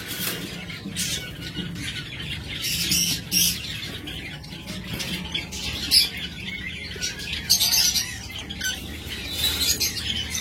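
Lovebirds of fine colour mutations squawk and chirp together in a busy, continuous chorus, with sharper calls popping out near the mic over a steady twittering background.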